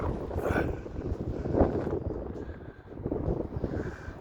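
Gusty wind at a seaside pier buffets the microphone in a continuous low rumble, swelling and easing without pause over a few seconds.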